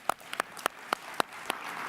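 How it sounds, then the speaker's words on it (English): A few scattered hand claps, sparse and uneven, about six distinct claps over a quiet background. "Let's give a round of applause for that."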